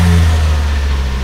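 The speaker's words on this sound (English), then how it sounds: "So let's get this car started up." A modified Ford Focus ST Mk2 (ST500) engine fires up and runs, a loud, steady low rumble with a deep throb that holds close and alone throughout.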